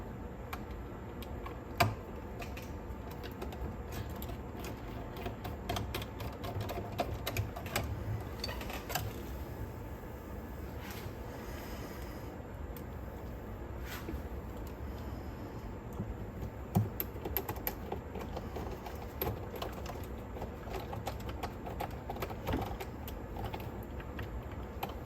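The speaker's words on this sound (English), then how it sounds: "Now I will screw tape transport to the body." Small screws are driven in to fasten the tape transport onto the body of a Hitachi D-980M cassette deck, giving faint, sparse clicks and ticks over quiet room hum.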